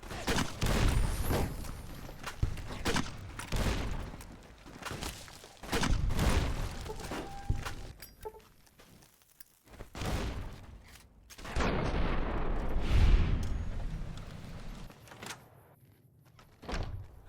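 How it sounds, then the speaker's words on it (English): Repeated grenade rifle blasts and gunfire from a mercenary grenade rifle fight against Powder Gangers in Fallout: New Vegas, heavy booming bursts and thumps recurring in clusters with a lull midway, loud and close. "Armed with the mercenary grenade rifle, quickly make short work of the powder gangers"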